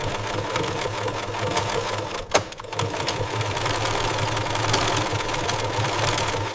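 A Singer Queen Anne treadle sewing machine runs steadily with a continuous mechanical whir and rapid stitching chatter, nearby and even-paced, with a brief knock partway through.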